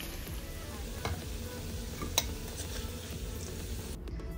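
Diced potatoes browning in hot oil produce a faint, steady sizzle with a few soft spatula scrapes and clicks.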